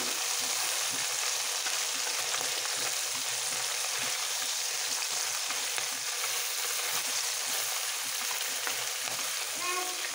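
Mixed river fish from the Padma, fried in a few small pieces at a time in hot oil in a pan and turned over, give a steady, loud, unbroken sizzle throughout with no voices.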